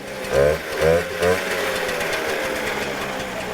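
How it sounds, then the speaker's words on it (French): A Motobécane 50V moped engine fires up and settles into a steady, buzzy two-stroke idle close by, following a few short bursts of talk at the start. "Ah oui, ça démarre, oui."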